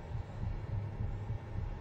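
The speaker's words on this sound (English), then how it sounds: "Do you hear a heartbeat?" A low, muffled heartbeat thumps steadily in the Outlast horror video game, a soft double throb repeating in an even rhythm under a faint hum.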